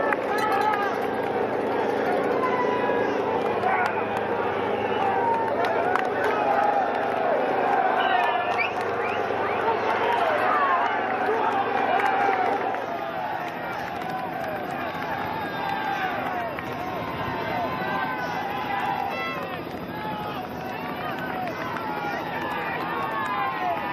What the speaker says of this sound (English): The noise from the crowd is deafening.